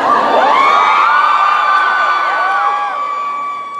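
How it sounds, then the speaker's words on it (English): Audience at a convention panel with Misha Collins and a band shrieks loudly and continuously, high-pitched screams and whoops overlapping in a dense crowd roar that fades slightly toward the end. "those were shrieks of horror that they were"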